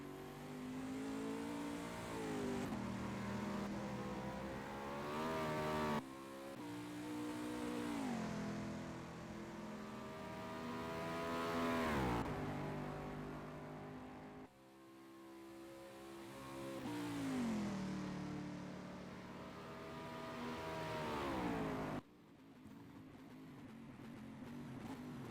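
BMW race car in a sim racing broadcast of the 24 Hours of Le Mans, its engine repeatedly revving up through the gears and dropping off on shifts in several loud sweeps with abrupt cuts between them.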